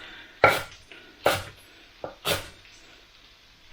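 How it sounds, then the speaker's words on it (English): A knife chops parsley on a board with four crisp, loud cuts at uneven intervals, plus a softer tap, each strike clean and close with quiet gaps between. "I'm just going to chop this parsley up"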